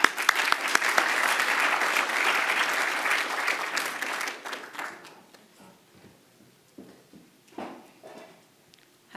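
Audience applause at the FutureLaw 2024 conference talk as speaker Margaret is welcomed: loud, dense clapping from a large crowd for about five seconds, then thinning into scattered claps and fading away.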